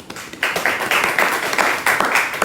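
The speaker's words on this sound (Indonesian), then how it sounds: "Aplaus dulu teman Abus" Rhythmic bursts of hand clapping from a small group at a university mathematics department event, several loud claps in quick succession repeating across the moment, with no talk over them.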